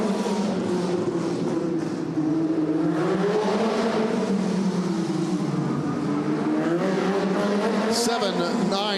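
A race car engine drones steadily through a lap of the Fort Wayne track at the Rumble in Fort Wayne, its pitch rising and falling with the throttle, loud and continuous, with a brief high squeal near the end.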